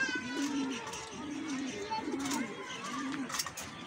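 Racing pigeons coo close by in a steady, repeating rhythm of low rolling calls, with a voice faintly present in the background.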